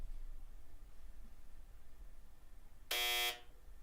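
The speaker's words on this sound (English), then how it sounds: "that is Rambo on the buzzer" A quiz game buzzer in a Black Desert anniversary trivia show sounds once, a loud harsh electronic tone lasting under half a second after quiet room noise.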